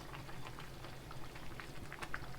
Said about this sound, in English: And this is now boiling.